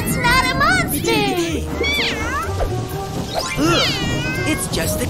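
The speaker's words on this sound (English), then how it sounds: "It's just a cat!" A cartoon cat meows repeatedly on a Halloween night, with long wavering, rising and falling cries over a busy background of music and effects, loud and close.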